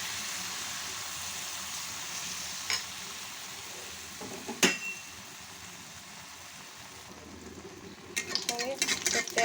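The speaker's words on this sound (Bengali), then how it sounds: "এক চামচ ব্যাটার নিয়ে আমি পিঠা বানিয়ে দিচ্ছি।" Spoonfuls of poa pitha batter sizzle steadily in hot oil, with a single soft clink partway through and brief clattering near the end.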